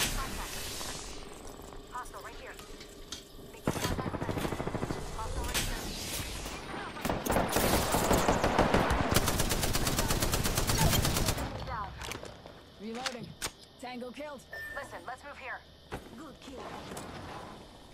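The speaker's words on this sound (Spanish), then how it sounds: "Me están disparando" Rapid automatic gunfire bursts and single shots crackle loudly in an Apex Legends match, with the heaviest sustained fire in the middle stretch, while a player speaks excitedly over the action.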